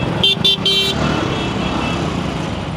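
Dense road traffic in India with motorcycles squeezing into a lane, a loud steady engine rumble filling the scene and three short horn toots near the start.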